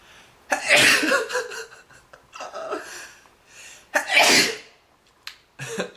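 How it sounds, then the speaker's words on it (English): A person sneezes twice, each a sharp burst of breath, with a short gasping inhale before the first and small breathy sounds between. "Ooh, gotta sneeze."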